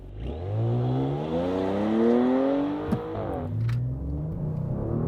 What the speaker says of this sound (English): I'll just stand on the throttle